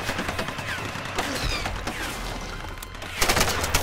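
Enemy gunfire in Tomb Raider, rapid bursts of shots cracking almost without pause, growing louder and denser toward the end.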